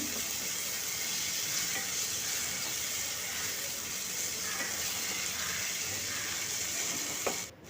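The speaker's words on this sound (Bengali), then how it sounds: "এটা আমি দু চামচ দিয়ে দিলাম দিয়ে তেলের সঙ্গে ভালো করে মিশিয়ে কিছুক্ষণ ভেজে নেব" Spice paste frying in oil for a Bengali cauliflower and fish dish, a steady soft sizzle with faint stirring scrapes, ending in a brief clatter.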